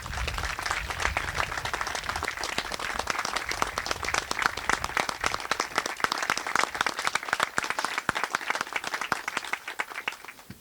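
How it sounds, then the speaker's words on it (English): Applause at a high school graduation ceremony, a steady crowd of hands clapping for about ten seconds at moderate distance, thinning slightly toward the end, with no speech over it. "Will you please join me in giving Mrs. Emmert a round of applause for her dedication and service to Jefferson High School."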